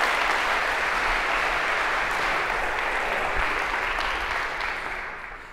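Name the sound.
applause for volunteers on stage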